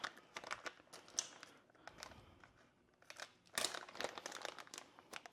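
Crinkling and snipping of a plastic piping bag being trimmed with scissors while frosting a buttercream board, a close series of sharp crisp rustles and cuts with brief pauses between them and no talking.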